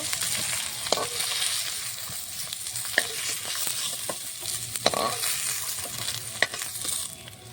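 Rohu fish frying in hot oil as whole spices like bay leaf, black cumin and cumin are tempered, a steady close sizzle with scattered clinks and scrapes of a spatula against the pan.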